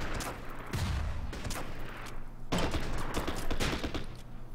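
Gunfire from a World War II strategy game battle on Bougainville with US Marines, dense crackling volleys and bursts running continuously at moderate loudness, with a stronger burst toward the end.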